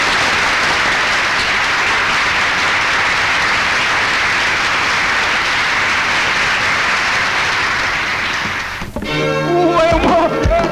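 A crowd in a Telugu movie scene claps steadily in a dense, loud roar of applause that holds for most of the stretch, then breaks off abruptly into other scene sounds and voices near the end.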